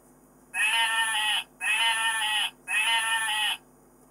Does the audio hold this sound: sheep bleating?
yes